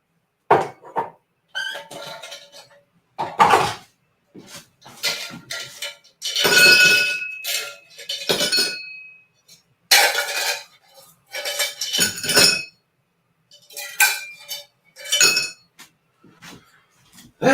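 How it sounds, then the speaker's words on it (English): Ice cubes dropped into a glass in a home bar setup, a series of sharp clinks, rattles and clatters arriving in bursts with short pauses, close and loud. "put ice in this glass."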